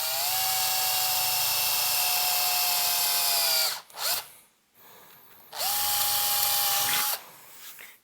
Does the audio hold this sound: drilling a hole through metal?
yes